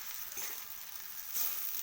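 Semolina (suji) for a salty recipe sizzles faintly in a pan over a medium flame while being stirred. The frying hiss is low and steady, with a slightly sharper stir and sizzle swell near the end.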